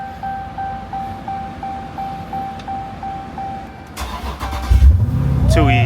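A Dodge Charger Scat Pack with the 392 engine fires up after a steady electronic chime, settling into a loud, rumbling idle close by, with voices talking nearby.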